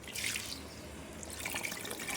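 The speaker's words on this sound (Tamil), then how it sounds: "இப்போ தாங்க தண்ணி ஊற்றுறாங்க." Water poured into a cooking pot with raw ingredients before pressure cooking, a soft steady splashing trickle running close by for a couple of seconds, fairly quiet.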